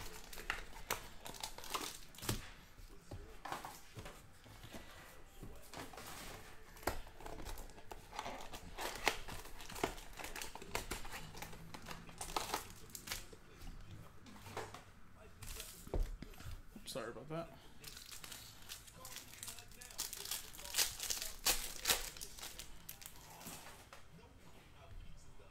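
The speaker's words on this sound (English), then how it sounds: "Just rip it from the top." Plastic wrapping torn and crinkled off a 2019 Panini Absolute football card box during a case break, a long run of crackling rips and rustles with speech over it.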